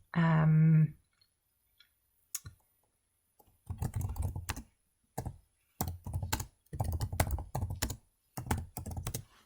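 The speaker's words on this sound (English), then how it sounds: "So if I type in" Fingers type on a computer keyboard in several short, clattering bursts of keystrokes, close and clear, after a brief voice at the start.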